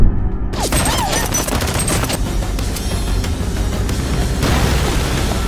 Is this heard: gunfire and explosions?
yes